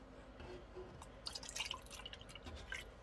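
Distilled water trickling and dripping into a funnel, faint and close, with scattered splashy drips over a quiet background.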